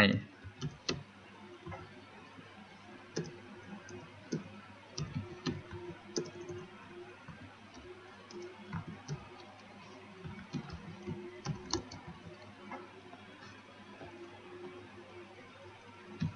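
Scattered light clicks of someone typing text on a computer keyboard, irregular and quiet, with short pauses between key presses over a low steady hum.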